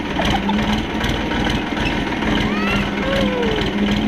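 A tractor stuck in the forest near a ruined temple runs with a loud, steady low diesel throb and rhythmic chugging, close by and continuous, with faint higher whines over the top.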